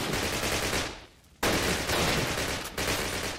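Gunfire in a video game rattles in a dense, continuous stream of rapid shots, breaks off briefly for a quiet moment, then resumes just as loud and close.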